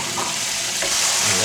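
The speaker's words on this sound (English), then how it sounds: "So we're going to fry them off, I take it, in butter" Food fries in butter in a pan, a steady close sizzle and crackle filling the short moment, with faint stirring scrapes and no talk.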